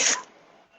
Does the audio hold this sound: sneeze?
yes